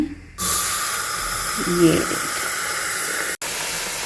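Tea poured into a very hot pot for a tandoori chai tadka, bursting into a loud, sustained steamy sizzle and hiss close up after a quiet start, with a brief word spoken over it and a short break near the end.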